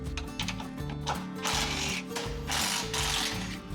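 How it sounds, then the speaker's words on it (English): A ratchet wrench loosens 13mm skid plate bolts on a Jeep Wrangler 392 Rubicon. Rapid, close pawl clicking comes in several runs, with brief pauses between them and no talk. "I like to start with the 2 13mm bolts first and then move on to the 18mm bolts."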